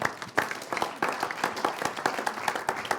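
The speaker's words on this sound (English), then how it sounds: "Big round of applause." An audience at an evening group event gives a round of applause, a crowd clapping close and lively with uneven, bunched hand claps over about three seconds.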